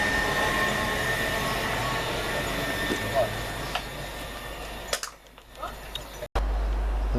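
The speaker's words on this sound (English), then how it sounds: "Looks like we've got another Transpennine Express Class 397 calling here." A Transpennine Express Class 397 train calls at Lockerbie station, its steady rumble and rail noise filling the platform, with a brief sharp clatter and a squeal near the end.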